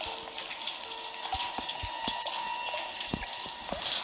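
Water flows steadily through a video game scene, a soft continuous trickle with scattered drips and small splashes, fairly quiet, with no talk over it.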